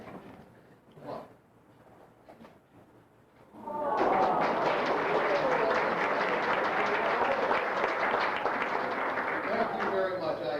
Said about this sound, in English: If this works, I want a big round of applause.